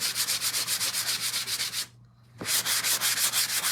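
Close, rhythmic rasping strokes of sanding on wood, briefly pausing for a moment of near silence before the back-and-forth scraping resumes.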